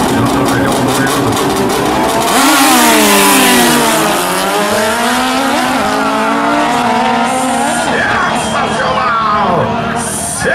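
Drag racing motorcycles rev loudly at a Copa Sul motorcycle drag race, with engine pitch sweeping up and down through gear changes, under a steady roar and a commentator's voice.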